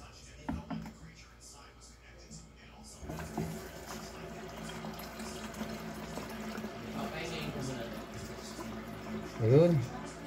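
Water runs and fills into a sink during a car window washer repair, a soft continuous splash under steady talking, ending with a brief louder gurgle.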